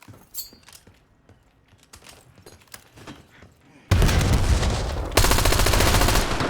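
Rapid automatic gunfire in Black Ops 7, loud and sustained bursts after a quieter stretch of in-game movement and clicks.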